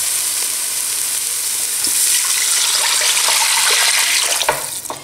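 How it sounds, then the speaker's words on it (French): Tap water pours steadily into a cooking pot of sizzling shallots and onions for a seafood chorba, a continuous hissing rush with frying crackle that thins out near the end. "je vais rajouter de l'eau."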